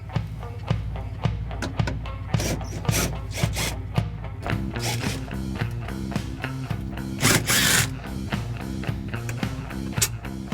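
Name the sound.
removing retaining nuts from Mustang taillight studs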